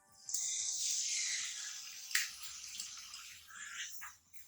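Two medium onions, finely chopped, fry in hot ghee in a kadhai with a soft, hissing sizzle that rises, dips briefly and continues quietly close by.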